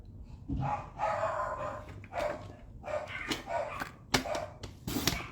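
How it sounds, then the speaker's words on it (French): A few dogs bark repeatedly in sharp, irregular bursts, somewhat distant and muffled. "mes chiens qui se mettent à japper"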